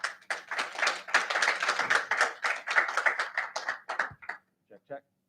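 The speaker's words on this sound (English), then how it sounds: "Give them a round of applause." A small audience claps for guests coming up at a franchise business seminar, brisk clapping that thins out and ends with a few scattered final claps, with a voice briefly mixed in.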